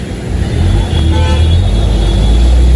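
On a waterlogged city street in heavy rain in Surat, a car rushes past close by with a steady engine roar and traffic wash, and a voice can be heard faintly underneath.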